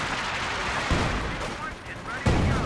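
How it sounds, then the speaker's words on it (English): A ZiS gun artillery barrage in the strategy game Company of Heroes 2 sounds as muffled booms and explosions over a dense battle din, with a couple of heavier impacts and a commentator speaking over it. "big Zis barrage there"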